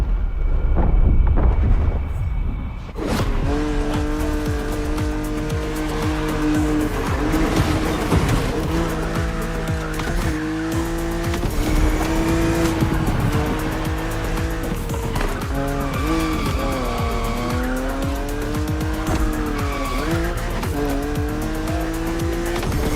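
A BMW Z4 E89 coupe cabriolet races in The Crew Motorfest, its engine revving loud and close with rising and falling gear changes and repeated tire squeals, starting after a brief quieter intro.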